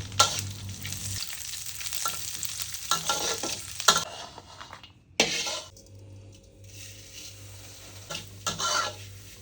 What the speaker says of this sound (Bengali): বাকি ঘিতে লাচ্ছা সেমাইটা দিয়ে দেব